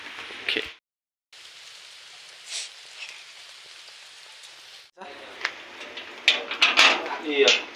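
Steady rain hisses down while someone shelters under a cloth; the rain cuts out briefly, then returns with heavier, closer spattering drops.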